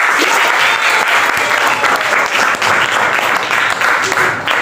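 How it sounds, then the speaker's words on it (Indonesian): An audience applauds loudly and continuously at a teacher-training presentation, a dense wash of clapping that carries on steadily without talk. "Kasih tepuk tangan."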